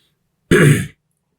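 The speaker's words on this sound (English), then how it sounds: "I'm still coughing from being sick a while back" A single short throaty cough bursts out close by, lasting about half a second, surrounded by silence.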